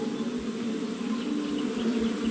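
A steady, even buzz of bees drones on without a break in the King's Quest I computer game, a continuous low hum with no voices or other sounds over it.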